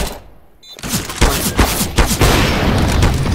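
A bomb explodes in a video game, a loud booming blast followed by a dense rumbling wash of crackling debris and repeated thumps that fills the rest of the moment.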